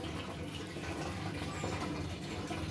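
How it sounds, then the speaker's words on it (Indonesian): Water rushing steadily into a hydroponic reservoir tank, a continuous dense, even flow heard close and fairly loud with no pauses or voices. "caranya pompa saya matikan, air biarkan masuk semuanya, air nutrisi"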